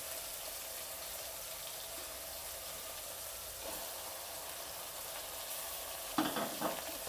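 Country chicken frying with onions and tomatoes in a pan, a steady low sizzle with occasional stirring scrapes and a louder clatter of stirring near the end.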